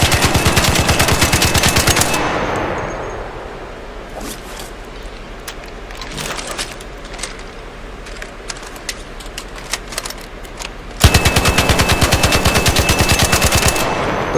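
Automatic weapon fire from a video game shooter rattles in loud rapid bursts at the start and end, with scattered single shots crackling more quietly in between.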